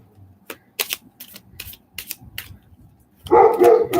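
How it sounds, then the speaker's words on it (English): Dogs at a house bark at passers-by, a string of short, sharp barks spaced irregularly, followed by a louder, denser burst of barking near the end, with no talk. "Sorry about the dogs barking"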